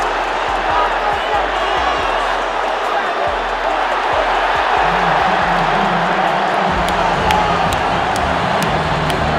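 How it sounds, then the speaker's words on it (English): A boxing event crowd roars in a big arena, a dense and sustained wall of cheering with scattered thuds and shouts, loud throughout and holding steady for about nine seconds. "Cheering"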